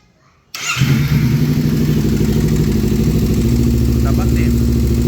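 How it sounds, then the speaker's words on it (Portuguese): A Kawasaki Ninja or Z300 motorcycle engine starts after a brief silence and settles into a steady, loud, close idle with a low rumble that holds evenly to the end. "coloca ele na moto, você vai dar partida na moto e vai regular"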